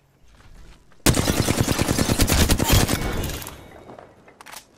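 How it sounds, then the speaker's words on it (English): Enemy gunfire in a shooter video game: after a quiet moment, a loud burst of rapid automatic shots rattles for about two seconds, fades into a tail, then a final short shot. "The enemies are shooting at me."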